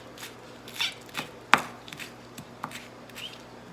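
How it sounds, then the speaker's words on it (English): A knife coarsely chops green onions on a cutting board in irregular thuds, one sharp loud knock among softer taps, close and without speech. "Some green onions. And again, just coarsely chop them"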